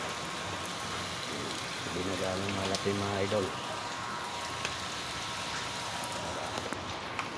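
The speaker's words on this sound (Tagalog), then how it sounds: "Dito tuloy-tuloy pa rin ang ulan" Steady rain keeps falling outdoors, a soft continuous hiss with scattered drops. Someone speaks briefly over it near the start, and the rain carries on alone afterward.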